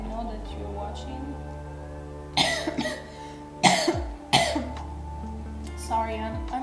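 A sick person coughs and clears their throat several times in short, close bursts between pauses, set against quiet background music in a miniature-sculpting stream.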